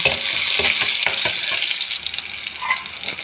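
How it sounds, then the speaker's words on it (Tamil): Mustard seeds, small shallots, dried red chillies and curry leaves fry in hot oil in a kadai, giving a loud, steady crackling sizzle with faint stirring taps throughout. "கடாயில் கடுகு பொரிஞ்சதும் சின்ன வெங்காயம், காஞ்ச மிளகா, கருவேப்பிலை போட்டு நல்லா வறுத்துக்காங்க."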